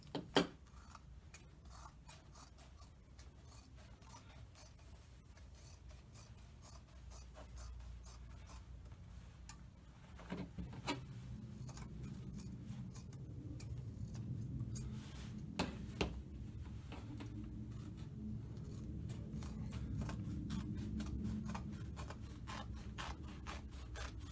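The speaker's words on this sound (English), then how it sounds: "The first step is to cut off the legs of the pants as high up as possible" Scissors cutting through fabric pant legs, a long stretch of soft rasping and rubbing snips with a few sharper clicks, close and fairly quiet, growing denser in the second half.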